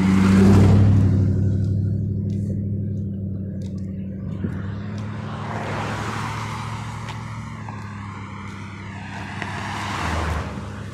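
Road traffic passing close by: a loud vehicle rush up front, then a steady engine drone with further cars sweeping past, rising again at the end.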